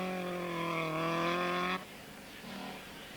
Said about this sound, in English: Number 7 is Per Gulbrandsen with the Ford Escort, a real handful, of course, a two-wheel drive car.